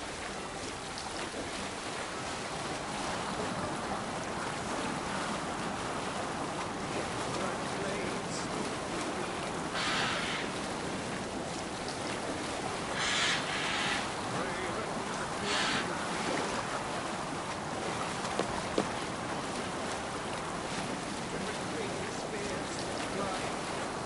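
Boat sailing over waves in the video game Final Allies: a steady wash of surf and wind noise runs throughout, with a few brief brighter splashes, and a voice is faintly present under it.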